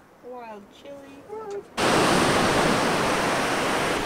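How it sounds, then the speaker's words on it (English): Heavy ocean swell breaks on rocks near a small cove, a loud, steady broadband roar of surf that cuts in abruptly after a brief stretch of voice. "There's a massive swell out there breaking waves on the rocks and we're just in this little cove"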